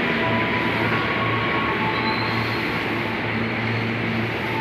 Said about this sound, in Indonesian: ini ada KRL lewat ya yang ke Bogor